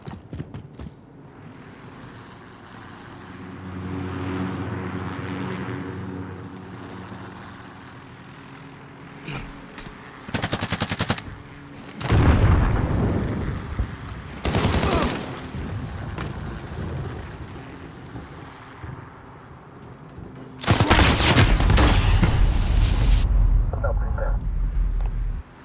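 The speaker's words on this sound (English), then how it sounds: "Airstrike inbound." Airstrike explosions in a shooter video game: several loud, booming blasts arrive in separate bursts with rumbling tails, mixed with gameplay noise and voices talking.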